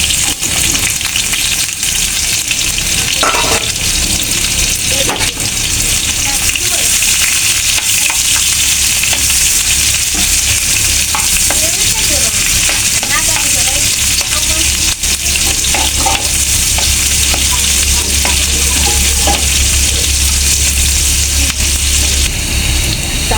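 Onion frying in a pan of oil for a mung dal and taro leaf dish, a loud, continuous close sizzle with scraping stir sounds throughout and no talk.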